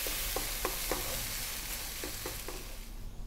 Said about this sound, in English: We're going to give that a little mix.